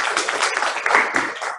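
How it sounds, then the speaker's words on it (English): Audience applause at a lunch-and-learn talk, a steady wash of many hands clapping for over a second before it tapers off. "Let's clap it up for Tatiana."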